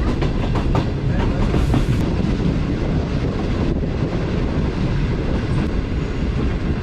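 Green Line Express passenger train running on the rails in Pakistan, a loud, steady rumble with rhythmic clickety-clack and wind buffeting throughout, close and continuous with no talk.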